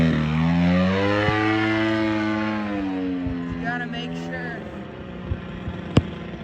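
A gas-powered 3D RC airplane engine at low idle on a landing approach, throttle fully closed, gives a steady harmonic drone that slowly sinks in pitch, with a few sharp clicks near the end.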